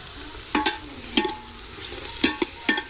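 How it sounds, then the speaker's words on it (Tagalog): Garlic and onions sautéing for papaitan, a steady frying sizzle with several sharp spoon-and-pan stirring scrapes at intervals, close and with no talk. "Gisa-gisa."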